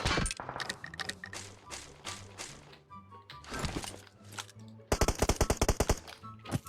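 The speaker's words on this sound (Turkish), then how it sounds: "Burası şu evden sıkıyorlar ha herifler" Enemy gunfire cracks out from a house in PUBG Mobile, with bursts of automatic shots scattered through the clip and a dense, loud rapid volley near the end.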